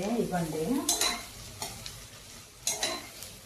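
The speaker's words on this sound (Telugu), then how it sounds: "ఉల్లిపాయలు కొంచెం వేగిన తర్వాత" Onions frying in a pan for mutton curry are stirred with a utensil, a soft sizzle under scraping strokes, with a brief voice at the start.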